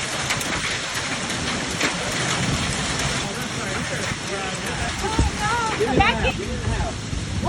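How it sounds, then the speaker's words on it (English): Hail and a torrential downpour pound outside a home: a dense, constant roar of rain and impacts fills the whole stretch, with voices talking faintly underneath. "this video of hail falling and just a torrential downpour of rain from their home"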